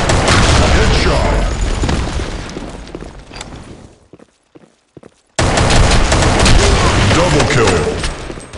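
In the BlackShot shooter game, dense gunfire and blasts fill the mix loudly, break off into near silence with a few faint pops, then a grenade-style boom slams back into continuous firing while a voice speaks over it.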